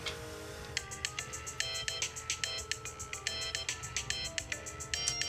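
A phone ringtone plays loud and close in a drama film scene, a steady repeating electronic trill pulsing rhythmically over low background sound.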